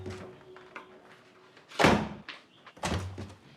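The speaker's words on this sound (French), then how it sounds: "ce n'est pas à toi de claquer la porte de ma chambre" A bedroom door is slammed shut with a sharp, loud bang. Quieter knocks and shuffling come first, and a second heavy thud follows about a second later.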